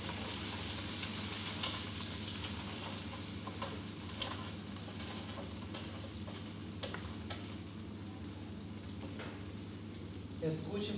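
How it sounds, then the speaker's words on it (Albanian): Kulaç bread sizzles steadily as it fries in a pan with butter, a soft, constant crackling hiss with occasional pops and stirring scrapes, fairly faint, a voice speaking briefly near the end. "E skuqim për 4-5 minuta."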